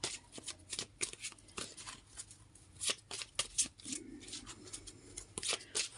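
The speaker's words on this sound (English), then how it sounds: "Think about your question as I shuffle the cards." Tarot cards are shuffled by hand in quick, soft riffles and slaps, a steady irregular patter of papery flicks heard up close and fairly quiet, with no talking.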